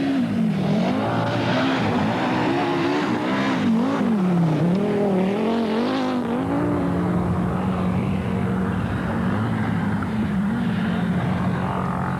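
A Rothmans Audi Quattro rally car races through a Dubai Rally stage and brakes hard, nearly locking its wheels. The loud engine note rises and falls as it revs, then settles into a steadier roar.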